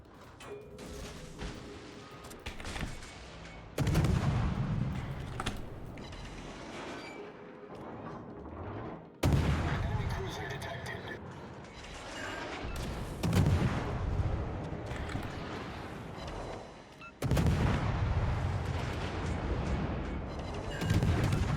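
An enemy tank fires armor-piercing rounds in a ranked tank battle video game. Several loud, booming cannon shots each set off a long rumbling decay, spaced a few seconds apart across the stretch, with faint crackling in between.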